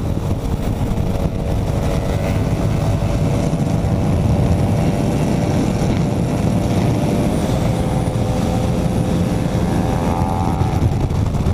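Yamaha MT-07 motorcycle engine revving up hard, a loud continuous roar with rising pitch held close by for the whole stretch, no voices over it.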